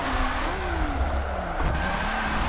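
A Kia Stinger engine drifting in a racing game, holding a loud, steady high-rev drone with shifting pitch and tire noise underneath. The sound runs continuously and close.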